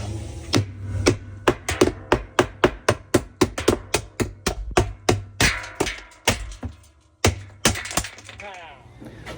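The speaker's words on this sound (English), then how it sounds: "Hammer time." Roughly two dozen sharp hammer blows strike the stuck, stripped basket hub of a Whirlpool washer that had been soaked in water, landing close and loud in a steady, slightly uneven rhythm with brief pauses.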